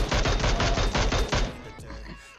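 Automatic gunfire in the mobile battle-royale game PUBG Mobile: a rapid burst of shots rattles at a steady rhythm for over a second, then stops abruptly, leaving a low rumble and fading echoes.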